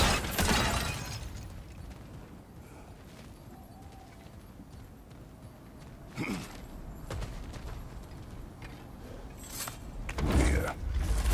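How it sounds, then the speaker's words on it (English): Smashing and breaking of objects in the video game God of War Ragnarok: a crunching crash at the start, another in the middle and a loud shattering burst near the end, with quieter clatter and rustling between. "back to smashing through things for fun and profit"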